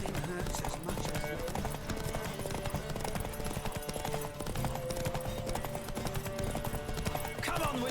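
Rapid hoofbeats of a galloping horse in The Witcher 3 drum along steadily, mixed with background music and voices talking.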